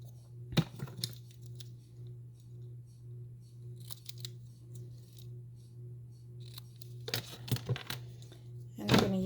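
Scissors trim a 3/8-inch paper strip in a papercraft setup, making several crisp snips: one early, one in the middle and a quick cluster near the end, over a low steady hum.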